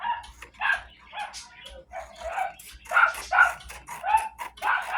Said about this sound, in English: The dogs are barking at them